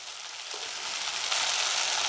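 Spice powders — coriander, chili, turmeric and garam masala — frying in a pan for egg curry, a soft continuous hiss of sizzling that holds steady and grows slightly, close and faint, with no voices.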